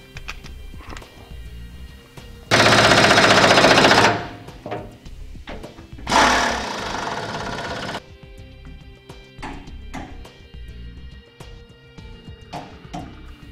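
Power tool snugging down cross member bolts to frame brackets during a Hide-A-Goose gooseneck hitch install on a 2005 Chevrolet Silverado, two loud sustained bursts with scattered knocks and clanks in between, no talk.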